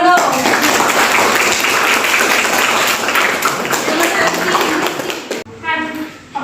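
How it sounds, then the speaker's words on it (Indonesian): A classroom of students claps their hands together in a lively burst for about five seconds, then stops abruptly as a voice begins speaking. "Tepuk tangan dong."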